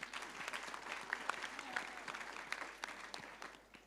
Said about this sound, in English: So if I could have a round of applause,